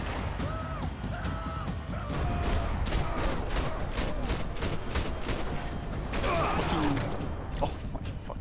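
Rapid gunfire in the shooter game Max Payne 3, repeated sharp shots in a dense, fairly regular volley over a constant noisy backdrop, with faint tonal game sounds mixed in.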